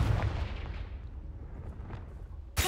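A Confringo fire spell cast in a video game, sounding as a heavy explosive blast that booms and decays over about two seconds, followed by a second sharp impact at the end.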